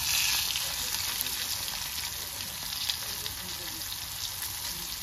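Onion fries with garlic and masala in a pan, a soft continuous sizzle heard at moderate distance, fairly quiet and steady, with no talking over it.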